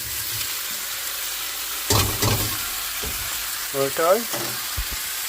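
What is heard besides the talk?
vegetables sizzling while stir-frying in a hot pan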